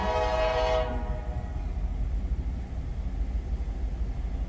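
An EMD diesel locomotive with ditch lights on approaches with a loud, steady rumble of engine and rolling wheels, a horn blast sounding at the start and fading within the first second.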